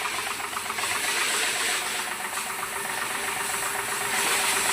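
A motorcycle engine runs steadily nearby during servicing in a workshop, giving a continuous hissy, mechanical drone with a faint ticking knock and no talk.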